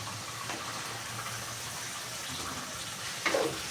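Steady running water from a tap, a continuous hiss with a brief louder splash near the end; no voices.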